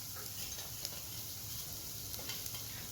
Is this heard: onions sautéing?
yes